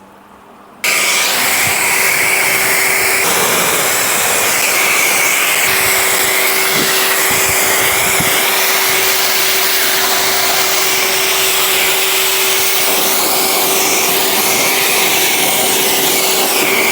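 A pressure washer rinses dirt off the lower half of a ceramic-coated car, a loud, steady high-pressure hiss and motor drone running continuously and close by after a brief quiet start, with no speech.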